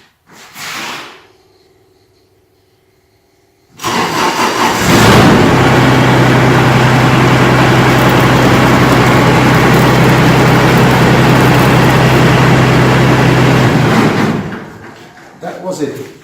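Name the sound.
tractor engine running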